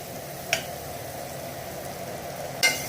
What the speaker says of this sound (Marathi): तुपामध्ये फ्राय झालेली आहे